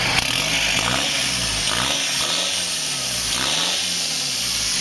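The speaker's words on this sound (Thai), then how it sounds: "ทีนี้เรามาลองฟังเสียงกัน ติดเครื่องเลยช่างตั้ม" A diesel pickup engine with its stock exhaust runs loud and close, its revs rising and falling in repeated surges over a steady rumbling idle, with no voices over it.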